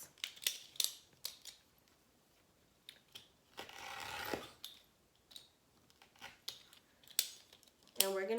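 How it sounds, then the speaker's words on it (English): Scissors snip through a 10-inch piece of material for a patriotic wreath: a run of crisp, close cuts with pauses between them, one longer rasping cut in the middle, and quiet handling noises around them. "I'm gonna cut a 10-inch piece."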